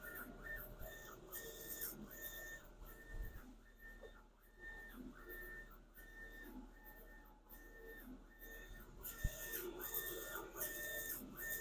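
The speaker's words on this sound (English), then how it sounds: "So the job is being sent to the printer. You can see that printer head moving," UV printer head shuttling back and forth while printing, a quiet mechanical whir with repeated regular passes and faint whistling tones, steady and close with no talk.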